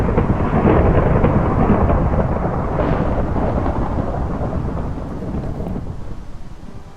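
Thunder rumbles heavily through a rainy thunderstorm in a Minecraft modpack, a loud broad roll that swells early and slowly fades over steady rain.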